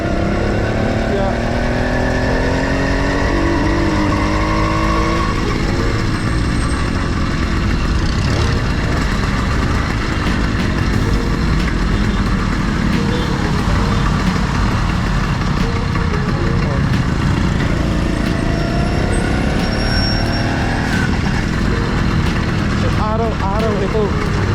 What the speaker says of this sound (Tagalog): Kahit saan ka magpunta talaga traffic.